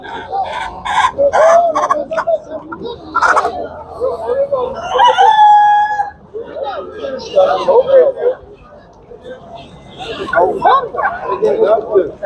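Roosters crow loudly at Tuzla chicken market in Istanbul, one long drawn-out call rising over a bustle of nearby clucking and chatter while people talk and haggle throughout.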